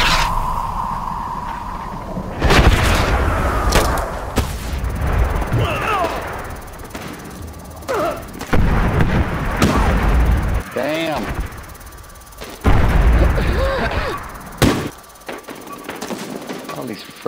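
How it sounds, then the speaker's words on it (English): Bombing explosions and heavy gunfire in the Medal of Honor Warfighter video game, loud repeated bursts and booms layered with chaotic battle noise, while a person talks over them. "frickin' bombing going off"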